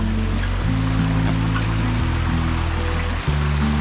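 A forest stream flows in a steady, close, broadband rush of water that fills the scene, with low rumbling undertones and no talking.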